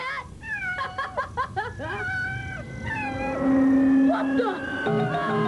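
In a 1960s TV sitcom scene, a cat meows and wails in a run of rising, pitched cries, loud and close, then gives way to a sustained howl and other tones.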